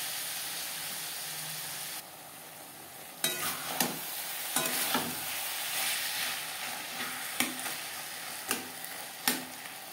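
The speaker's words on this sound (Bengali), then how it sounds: "পেঁয়াজ টমেটোর সাথে মশলা বেশ ভালো করে মিক্স করে দেবো।" Crushed spice paste with onion and tomato sizzles steadily in a hot pan for a Bengali bhetki fish-bone chorchori, while a spatula scrapes and clatters through it in repeated sharp strokes.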